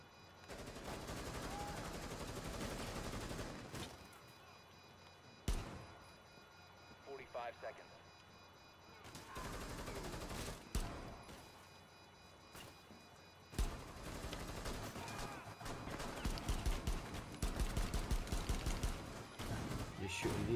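Gunfire bursts in the video game Rainbow Six Siege, loud rapid volleys and single shots separated by quieter gaps, with a voice talking over parts of it.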